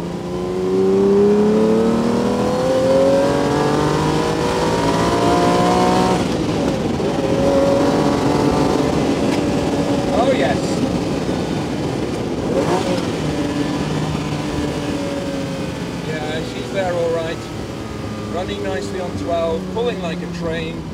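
A powerful Ferrari Daytona V12 engine revs up under load, its pitch climbing and sweeping through several gear changes from inside the car, with someone talking over it.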